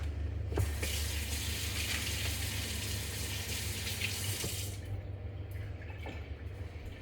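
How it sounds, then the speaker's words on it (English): Kitchen tap running steadily while hands are washed during cookie making, a constant rush of water that thins out toward the end. "and then wash your hands"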